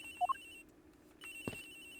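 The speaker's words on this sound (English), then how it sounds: "Agent Hicks' phone is ringing from somewhere." Agent Hicks' phone rings somewhere aboard a plane in the video game Ace Attorney Investigations: a brief, faint electronic trill of two quick chirps over a steady low game hum, followed by a soft thud.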